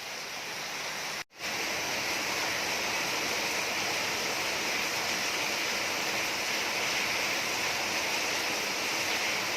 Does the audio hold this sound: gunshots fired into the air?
no